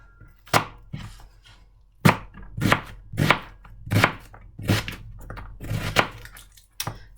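A large onion chopped into small pieces with a knife on a board, sharp close thuds in an uneven run of about ten strokes with short pauses between.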